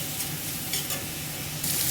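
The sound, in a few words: shrimp frying with salt and turmeric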